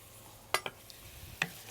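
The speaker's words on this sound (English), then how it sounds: "Give that a bit of a stir." Onions are stirred in a pan with a few short scraping clicks of a spoon against the metal over a faint, quiet sizzle.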